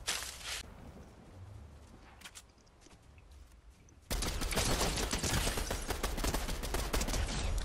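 Gunfire in Fortnite in a jungle biome: a few scattered shots in the first seconds, then a loud, dense burst of rapid automatic fire that runs to the end, close and harsh.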